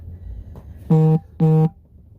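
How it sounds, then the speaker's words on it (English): A phone gives two loud, close electronic beeps for a Starbucks app notification, with a short gap between them, over a low hum inside a rideshare car. "Starbucks is sending me a notification."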